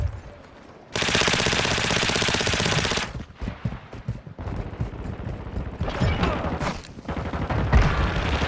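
Loud, continuous machine-gun fire in a multiplayer shooter on the map Vondel, a long unbroken burst followed by choppier volleys and scattered shots, heard up close without talking.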